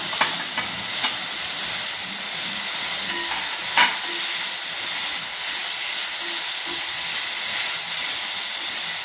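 Steam hisses steadily from a pot of dal khichda with rice, lentils, carrots and peas cooking on the stove. The hiss is loud, continuous and even, with a few faint clicks and bubbling ticks.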